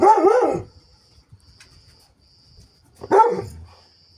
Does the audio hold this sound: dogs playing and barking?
yes